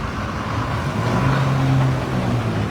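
A KSRTC bus bound for Ernakulam rumbles in slow, blocked road traffic, its engine drone swelling gradually, with steady traffic noise around it.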